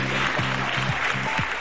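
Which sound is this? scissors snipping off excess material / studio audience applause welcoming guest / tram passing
studio audience applause welcoming guest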